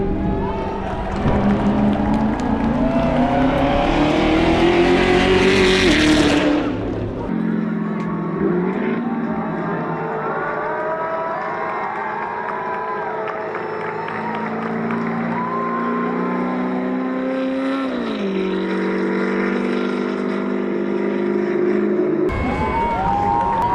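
Race car passing on the GP Explorer circuit, a loud engine note rising in pitch as it approaches then dropping away, followed by shifting engine tones over steady crowd noise at the track.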